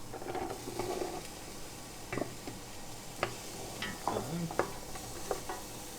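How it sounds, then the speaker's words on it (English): Chopped carrots tipped into a pan of softened onions, then stirred, giving scattered clicks and scrapes over a gentle sizzle, heard up close with no talk. "So I'm going to add the 500 grams of carrots chopped."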